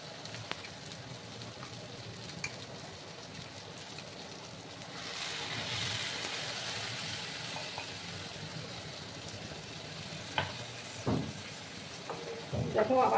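Mustard and poppy seed paste with a splash of water hits a hot pan of tomatoes and sizzles. A soft steady hiss swells partway through, with scattered clinks and stirring knocks near the end.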